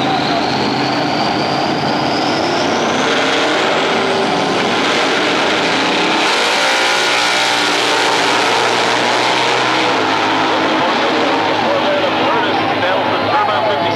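Loud, dense roar of a Corvette and a turbocharged 1957 Chevy drag racing at Atlanta Dragway in Commerce, Georgia, with an announcer talking over the engines throughout the pass.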